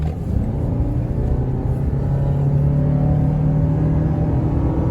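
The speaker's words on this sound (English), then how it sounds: "A little quick acceleration." A 2022 Toyota RAV4 XLE Hybrid accelerating hard on the road, a steady loud engine-and-road rumble with a rising whir heard from inside the cabin, no talk.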